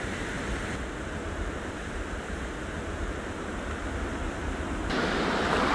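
A steady rush of water from a waterfall stream near the Ambika temple at Devkunda, even and unbroken, swelling louder toward the end, with no talk.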